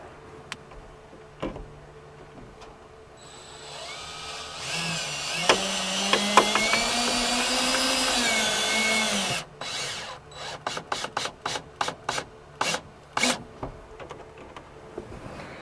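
A power drill revs up and runs steadily for several seconds as a screw drives in without a pilot hole while installing a roof fan in a truck cap, then gives a string of short whirring bursts and clicks.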